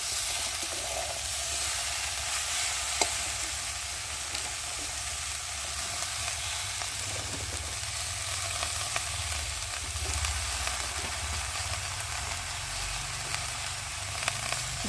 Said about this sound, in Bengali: আর এখন আমি পুঁই বিটুলিগুলো দিয়ে ভালো করে কষিয়ে নেব।